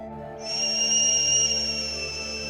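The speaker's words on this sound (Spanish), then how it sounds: "una especie de silbatos, que también tienen un sonido parejos generalmente" A single steady, high-pitched whistle tone from a stone whistle sounds clearly for about two seconds, close and fairly loud, over a low background hum.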